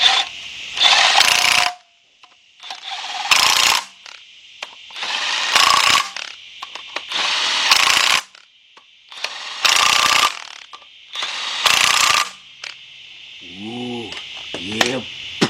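A power tool tightens cylinder head bolts in a cross pattern during a Chevy Equinox / Buick Rendezvous engine rebuild with head gasket replacement, seven loud whirring bursts separated by short pauses, ending with a faint voice.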